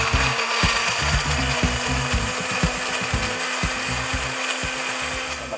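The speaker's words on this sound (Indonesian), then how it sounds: "Oke, lalu kita blender." A blender grinds a spice paste of shrimp paste, garlic and shallots with water, its motor whirring loudly and steadily up close with a churning, rattling texture throughout.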